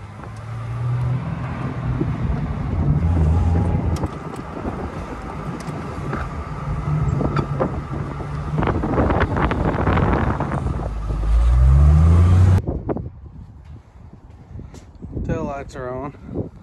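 A Jeep YJ ranch vehicle with a large carburetor runs at a high idle, a steady close engine drone with wind buffeting the microphone, before the engine cuts out and someone talks over quieter surroundings.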